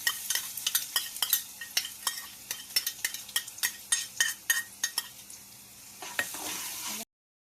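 Ginger and chili paste frying in a pan with hing for dal bati, a soft sizzle under a run of regular metallic spoon clinks and scrapes against the pan, ending abruptly.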